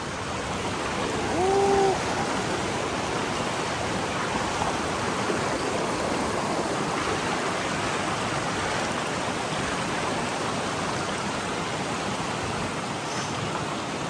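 A river stream near Bhimashankar waterfalls rushes in a loud, steady, broadband flow close by, with a brief faint bird-like chirp early on and no speech.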